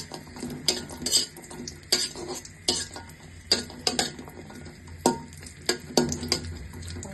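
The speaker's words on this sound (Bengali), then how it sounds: "তারপর দিয়ে দিলাম কিশমিশগুলো এগুলো একটু ভেজে নেব" Raisins for carrot payesh frying and being stirred in a pan, with repeated utensil scrapes and clinks over a soft sizzle, close and fairly quiet, no talking.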